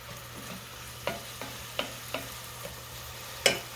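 Tomato spaghetti sauce starts cooking in a pan, with a quiet low simmering hiss broken by a few soft ticks and clinks and one sharper tap near the end, heard up close with no talking.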